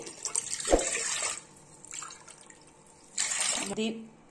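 Water splashes and pours in two bursts separated by a quieter pause, with faint clinks of a vessel nearby, as three glasses of water go over chana dal in a pot.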